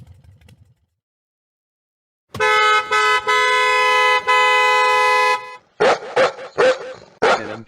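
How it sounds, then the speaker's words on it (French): A car horn blares in long, loud, steady blasts for about three seconds, broken by brief gaps, followed by a run of short sharp honks; a low muffled rumble comes before it. "je t'ai dit depuis le début de l'année dernière de ne pas klaxonner ma voiture"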